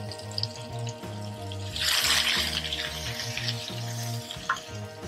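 Onion and hot green pepper dropped into a hot frying pan for a leftover chicken curry, a sudden burst of loud hissing sizzle that settles into steady frying with a faint clink.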